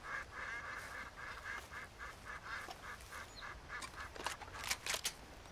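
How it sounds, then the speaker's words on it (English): A duck in the game Red Dead Redemption 2 gives a series of repeated nasal quacks over outdoor ambience, getting louder and more clustered near the end. "It's a duck."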